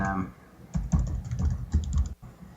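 Quick, irregular clicks of keys being pressed on a computer keyboard while a password is entered, close-up, with a voice speaking briefly at the start.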